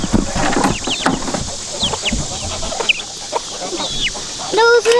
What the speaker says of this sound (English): Those little chicks are eating.